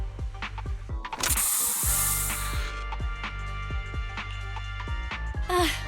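A special Bangboo spray in the video game Zenless Zone Zero makes a loud hissing spray burst that lasts about a second and a half. Rhythmic mechanical clicking runs underneath, and a voice is heard briefly at the end.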